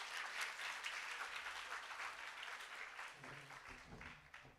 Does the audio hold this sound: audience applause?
yes